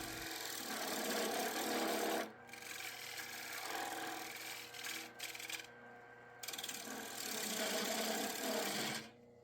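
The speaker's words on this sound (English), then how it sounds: "I switched to the 1-inch scraper to give it a flat surface" A 1-inch flat scraper cutting a pallet wood platter on a lathe: a close, continuous raspy scraping in several long passes, broken by brief pauses where the tool lifts off the spinning wood.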